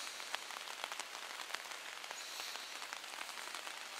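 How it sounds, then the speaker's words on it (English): Rain falling on a tent at night during a wet campout: a soft, steady patter with scattered sharper drop taps, fairly quiet and unbroken, no voices. "There's that rain."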